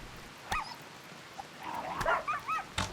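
A dying dog in the video game RimWorld whimpers and yips in short, pitched bursts scattered over a few seconds, mixed with sharp clicks and impacts of combat.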